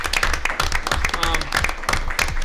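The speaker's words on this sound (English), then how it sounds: "So everybody gives a round of applause to them." Applause at a town board meeting in Somers, New York, with dense, steady clapping from the audience filling the room and a voice speaking over it.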